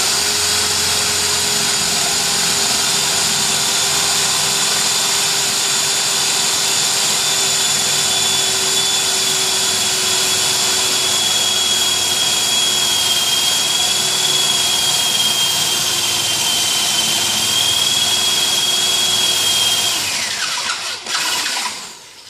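Power drill boring holes through metal to mount a bench vise, a steady loud whine with a rising tone that continues for about twenty seconds and then winds down abruptly as the bit stops.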